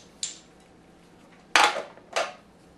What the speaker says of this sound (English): So let's grab another domino, closing my eyes.